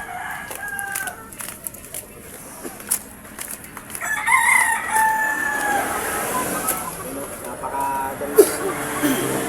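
A native labuyo rooster on a Philippine breeding farm crows once with a clear, drawn-out call in the middle, with clucking and other birds around it and voices in the background.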